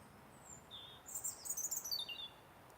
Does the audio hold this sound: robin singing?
yes